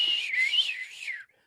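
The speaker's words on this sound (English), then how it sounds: "Why are we trying to do this whistle?" A person whistles one wavering, sliding tone that rises and dips for about a second before cutting off, close and fairly clear with no talking.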